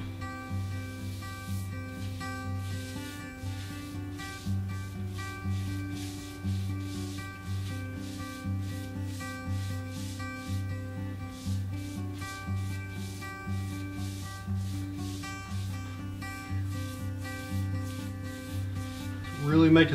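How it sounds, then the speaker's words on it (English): Steady rubbing strokes as oil finish is worked by hand into a quarter sawn white oak farm table, a soft, even swishing that repeats continuously at close range over a low constant hum. "So we are going to get an idea how this oil is going to look on this quarter sawn white oak."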